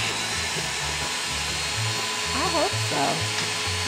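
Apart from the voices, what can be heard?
chainsaw chain being sharpened with sharpening tool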